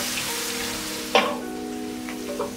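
Onions frying over high heat in oil and ghee with garam masala, a steady close sizzle with one brief clatter partway through and no talking.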